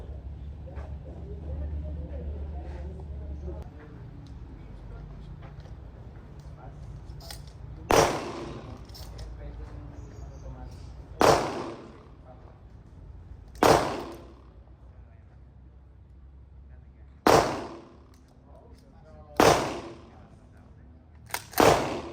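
Six sharp gunshots crack one by one at an outdoor firing range on Mt. Arayat, spaced a few seconds apart and loud against a quiet background, with a low hum early on and brief voices in between.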